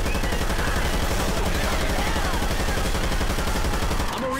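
Dense, sustained automatic gunfire from Left 4 Dead 2 gameplay, rapid overlapping shots filling the whole stretch at steady loudness before cutting off sharply near the end.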